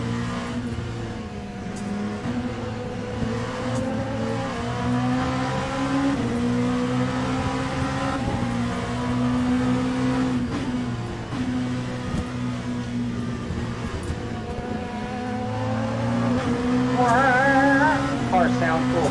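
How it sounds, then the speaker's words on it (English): A race car engine in the sim racing game Le Mans Ultimate drones steadily at high revs, rising and falling slightly, with a faint whine building toward the end. "I really dig that sound of your car"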